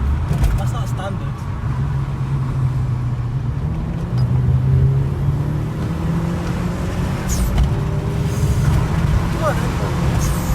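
A Mitsubishi Evo 8 with a non-standard exhaust drives along, its engine holding a steady, loud drone with slight pitch shifts heard from inside the car, with voices faintly mixed in.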